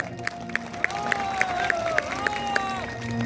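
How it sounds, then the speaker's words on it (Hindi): Audience applause and crowd noise at a Bahujan Samaj Party election rally, a steady wash of clapping with sharp cheers and whistle-like tones over a held background drone. "तो हम आचार्य अजय भैया का देखो जोरदार ताली हो जाए"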